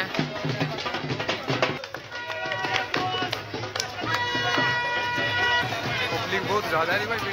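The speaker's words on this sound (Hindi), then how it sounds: "पब्लिक बहुत ज्यादा है भाई, भीड़ है।" Crowd at the Geeta Jayanti fair in Kurukshetra, a dense babble of many voices with music and clatter throughout, close and busy.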